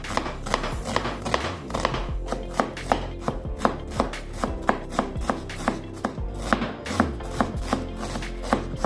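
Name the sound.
knife chopping onion into brunoise cubes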